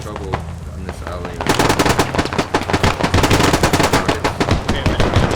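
Gunfire in the video game Squad: after a few scattered shots, sustained rapid automatic bursts hammer loud and close, rattling continuously for several seconds.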